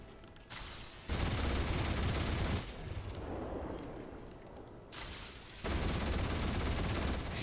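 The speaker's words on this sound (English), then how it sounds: "Shooting at the pharaohs." Atomfall video game gunfire rolls in fairly quiet, continuous bursts, dipping into a softer rumbling stretch before the shooting surges back.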